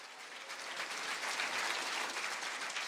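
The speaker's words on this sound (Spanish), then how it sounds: "Fuerte aplauso" Church congregation applause, a dense continuous round of clapping from the worshippers, moderately close and steady with no voices over it.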